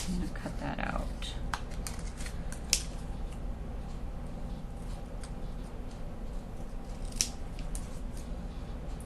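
Scissors cutting paper for a mixed-media scrapbook layout, a run of crisp, close snips and rustles with a few sharper clicks, over a low background hum, no clear talk.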